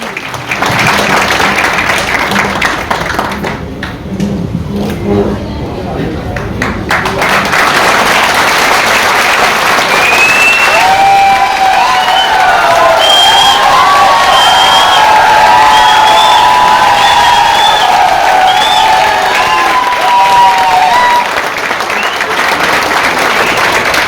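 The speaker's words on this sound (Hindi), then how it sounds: "कम ऑन, जोरदार तालियां होनी चाहिए।" A packed crowd at a network marketing training event bursts into loud, sustained applause and cheering, with whoops and whistles rising over the clapping for more than twenty seconds.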